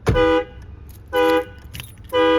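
Prestige or Autoshield remote starter car alarm going off, with three loud, close horn-like electronic blasts, each lasting about a third of a second, separated by short gaps.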